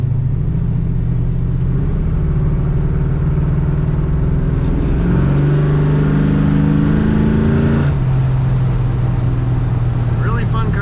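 A 440 engine in a 1974 Plymouth Road Runner muscle car rumbles steadily at close range, its low drone rising in pitch as it revs, then dropping back to a deep idle.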